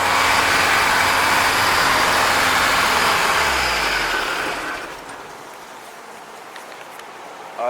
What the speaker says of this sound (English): Spoke too soon. Idling back up.